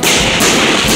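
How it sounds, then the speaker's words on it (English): Fourth of July fireworks going off: a loud, close burst of crackling explosions in quick succession, filling the short moment with sharp pops and rumble. "Let's see the fireworks go off."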